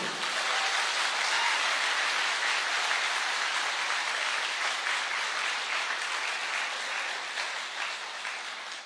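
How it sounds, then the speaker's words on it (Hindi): Loud, dense applause from an audience at a health awareness talk, a continuous rain-like roar of clapping that holds steady across the whole stretch, with no voices rising above it. "एक जोरदार तालियां आपके सेहत के नाम पे"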